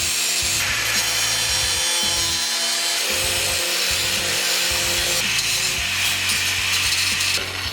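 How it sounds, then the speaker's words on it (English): A power tool cuts away the fender metal on a Jeep Cherokee XJ to trim for fender flares and larger tires, giving a steady, harsh, rasping sawing noise that runs the whole time with slight changes in pitch and no speech. "we're going to go ahead and cut down through here and take that out."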